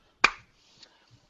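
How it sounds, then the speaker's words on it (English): A single soft, sharp golf clap sounds in a quiet podcast room, followed by a couple of much fainter taps. "Golf clap."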